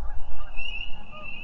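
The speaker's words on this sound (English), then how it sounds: "you might hear the high-pitched peep, peep sound like this of our spring peepers" A high, shrill peeping chorus rings out steadily, many small frogs calling together in a continuous trill with no voices.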